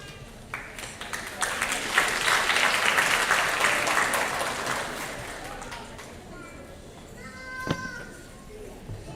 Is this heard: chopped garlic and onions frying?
no